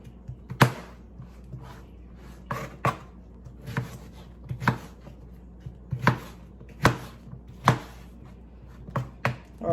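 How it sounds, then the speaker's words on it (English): A knife chops cucumber into cubes on a cutting board for a salad, giving a steady run of crisp, close, distinct thuds spaced roughly every half second to second, with no talking. "I'm going to slice them in cube-like forms."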